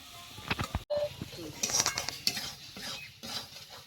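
Spices with salt and sugar are stir-fried in a pan for a chana dal and cabbage dhoka, with close scraping strokes, metal clinks and a soft sizzle running throughout.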